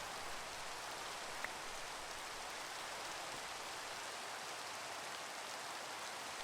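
Video game rain pours steadily, a constant soft hiss of drops with no breaks, heard alone at low volume.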